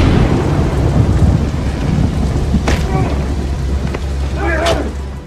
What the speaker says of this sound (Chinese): 此时约翰冒着大雨也赶往别墅